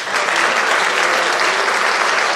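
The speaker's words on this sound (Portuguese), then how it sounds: "Aplaudam Jesus." Church congregation applauding steadily and loudly, a dense, even wash of clapping that fills the whole moment without pause or voices over it.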